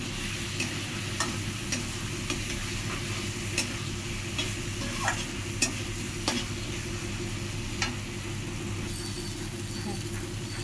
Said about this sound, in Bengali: কাশ্মীরি রেড চিলি পাউডার, একটু নাড়াচাড়া করে মশলাটাকে কষিয়ে নিতে হবে।